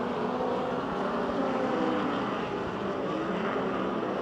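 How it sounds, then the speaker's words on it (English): A pack of race cars runs three wide on a half-mile speedway oval in Pennsylvania, producing a dense, steady engine roar at close range throughout. "They're still back there, 3 wide racing."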